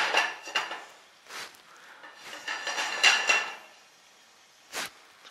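A frying pan clatters on a hob while vegetables are cooked in sun-dried tomato oil, a few close metallic knocks and scrapes spaced apart with quieter gaps between, no voices.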